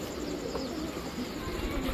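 A black female Gorra pigeon coos close by, a low, throaty, steady murmur running through two seconds.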